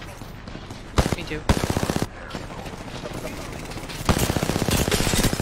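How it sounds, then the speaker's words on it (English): Rapid bursts of automatic gunfire crackle in a multiplayer shooter video game, several volleys from different directions, with a brief spoken reply over the shooting. "Oh my god, I'm getting shot from everywhere."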